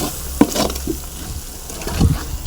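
Red chilli powder stirred into biryani in a pot, a few soft scraping strokes and light knocks of a spoon over a faint background sizzle, no talk.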